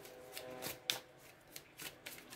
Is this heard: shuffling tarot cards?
yes